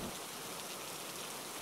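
Heavy, steady downpour at night at a roadside food stall, a dense continuous hiss of rain on surfaces filling the whole moment with no voices.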